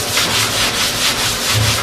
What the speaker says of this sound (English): I'm doing a little bit of sanding to the hood.